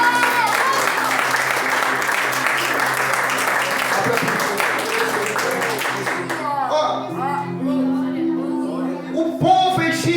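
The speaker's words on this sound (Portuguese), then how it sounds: "Pode aplaudir." A church congregation applauds loudly, a dense burst of clapping that fades after about six seconds into scattered voices and shouts in the hall.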